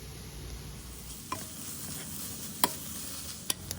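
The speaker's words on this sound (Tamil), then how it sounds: "மல்லிப்பொடி, உப்பு, மஞ்சப்பொடி போட்டு நல்லா வதக்கிங்கோ" Grated beetroot with coriander powder, turmeric and salt sautéing in a pan, a faint steady sizzle with a few sharp spoon taps against the pan.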